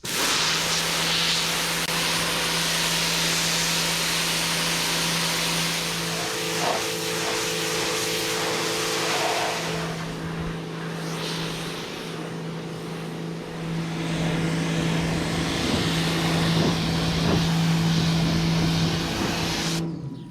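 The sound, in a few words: pressure washer blasting old paint off a wagon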